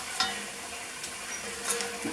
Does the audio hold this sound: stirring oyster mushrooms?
yes